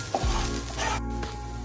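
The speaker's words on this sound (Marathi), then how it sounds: "मसाला आणि कांदे उत्कृष्ट प्रकारे भाजलं गेलेलं आहे." Masala and onions sizzle steadily in a pan for chicken liver fry, a close, continuous crackling fry with a brief stir or clatter near the start and no talking.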